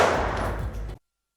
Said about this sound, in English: So let's just shoot around.